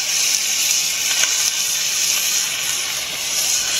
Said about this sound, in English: You can hear that bacon sizzling.